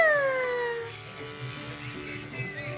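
Electric clippers buzz steadily while shaving a child's head, a low continuous hum heard fairly close under a woman's chatter and a voice.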